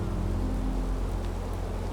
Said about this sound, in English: A gentle rain begins to fall from the sky.